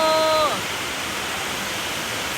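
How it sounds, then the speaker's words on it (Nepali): Heavy rain pours down at a football ground during a match, a dense, steady hiss of falling water that fills the scene, briefly overlapped at the start by a high tonal whine before the rain continues alone. "यस्तो हेभी पानी पर्यो यहाँ हेर्नु त साउन्ड"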